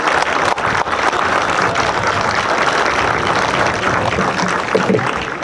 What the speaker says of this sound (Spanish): quisiera que primero le demos un aplauso a los asadores que realizaron un magnífico asado